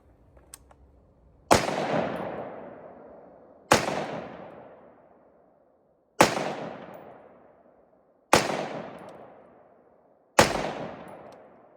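An H&R XM177E2 carbine with its two-position buttstock extended fires five loud, evenly spaced single shots at a range target, each sharp crack trailing off into a long echo, with no talk.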